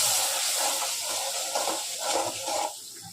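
Soaked chili powder tipped into hot oil already seasoned with cumin seeds, a steady close sizzle and hiss with a few watery crackling bursts, heard alone without talk.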